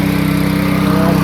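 Pressure washer trailer engine driving a Comet P40 pump runs steadily at close range, a loud continuous drone with a pulsing low hum and no talk over it.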